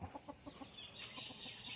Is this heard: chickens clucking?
yes